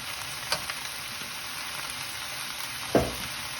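Chicken stir-frying in a pan with dark soy sauce added, a steady faint sizzle broken by two brief louder clatters of stirring, with no voices.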